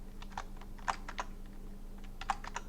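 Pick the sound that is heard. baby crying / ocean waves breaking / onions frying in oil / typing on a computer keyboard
typing on a computer keyboard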